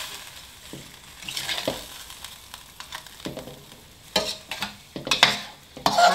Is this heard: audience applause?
no